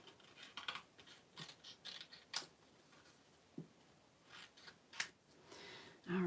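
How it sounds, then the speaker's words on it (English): Scissors snip out paper images for a handmade cactus greeting card, a series of faint, close crisp cuts in irregular rhythm with small rustles of paper between them. "I'm just going to cut these all out."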